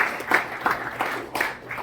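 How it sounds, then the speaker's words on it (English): Meetup audience claps for the host committee at the CincyAI for Humans gathering at UC Digital Futures, a short, light patter of applause that swells in small bursts and fades, with a voice faintly mixed in. "if everybody else could give the host committee a big round of applause"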